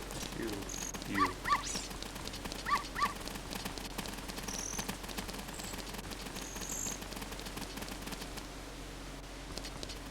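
A dog barks a few short times in Zelda: Ocarina of Time on the N64, game music and ambient sounds running steadily underneath.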